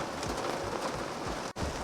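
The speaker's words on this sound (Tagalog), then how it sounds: "Ang lakas ng ulan mga re." Heavy rain falls on a flooded Manila street, a dense, continuous hiss of drops on surfaces with a brief dropout near the end and no talk.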